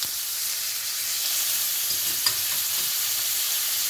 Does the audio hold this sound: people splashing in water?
no